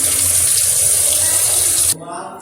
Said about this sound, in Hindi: गीज़र के पानी से मैं इसको धो लूँगी